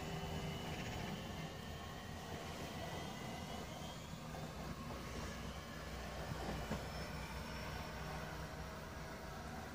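A pair of Southeastern Class 465 electric trains pull away from Swanscombe station with a faint, steady rolling rumble, a soft whine of traction motors and light clickety-clack from the wheels, heard at a distance.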